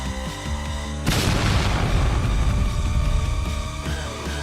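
A heavy explosion, a magic blast in a fantasy story, booms suddenly after a low rumbling drone, followed by a dense roaring, crackling blast that lingers without fading, loud and close.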